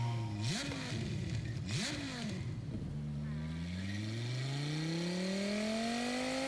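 A Tomahawk car engine in Gran Turismo 7 revs with rising and falling pitch, then settles into a steady climbing drone, loud and close, with a scraping texture early on.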